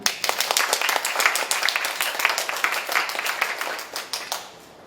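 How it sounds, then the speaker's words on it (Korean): Audience applause welcoming a speaker to a student talk, a steady round of many hands clapping close by, fading out toward the end. "큰 박수로 맞이해 주시길 바랍니다"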